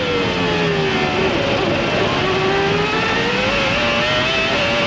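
Formula 1 car onboard at the 1995 Australian Grand Prix, a loud, close, high-pitched engine whine rising steadily in pitch under acceleration and held continuous throughout.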